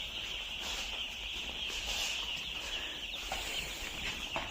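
A poultry farm's flock of chickens clucks in a dense, continuous chorus of overlapping calls, moderately quiet and steady throughout with no clear single bird standing out.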